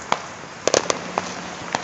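Several sharp Fourth of July fireworks bangs and pops go off at irregular intervals, some close together, against a quiet background hiss.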